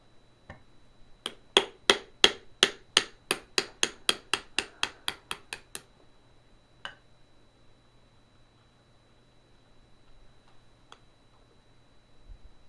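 About fifteen sharp metallic hammer taps on a socket driving out a Permobil C300 power chair bearing, a quick even burst close by that fades, then two isolated knocks in quiet.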